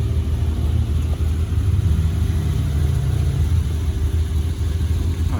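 A classic Ferrari 250 GT driving past at a car-spotting gathering in Deauville, heard as a steady, fairly loud low engine rumble with no sharp pass-by peak.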